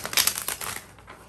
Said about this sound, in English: I'm going to shuffle these two